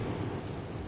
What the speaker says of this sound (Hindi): अरे ये बारिश तो छूटने का नाम नहीं ले रही है।